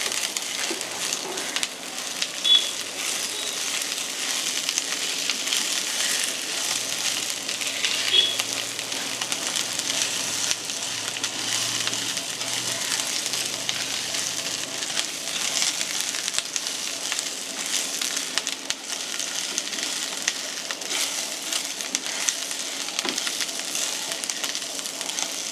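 Ginger, garlic, tamarind, capsicum and green chillies sizzle steadily in a hot pan, a dense, even hiss that runs unbroken and close throughout with no voices.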